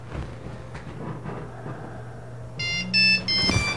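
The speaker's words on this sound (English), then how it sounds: "There was a phone call there." An electronic phone ringtone chirps in a few short bright bursts near the end, cutting through a quiet low hum after a stretch of near silence.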